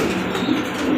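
A pair of bright red Dauka pigeons coos continuously at close range, with a soft, steady murmur and no speech.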